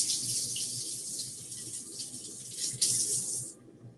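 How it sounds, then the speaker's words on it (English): A kitchen sink faucet runs a steady, close stream of water for handwashing, with a broad hiss and splashing that swells slightly near the end before cutting off abruptly as the tap is shut. "Over here at the sink, you wash your hands, right?"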